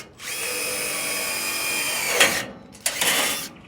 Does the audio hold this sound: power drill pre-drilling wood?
yes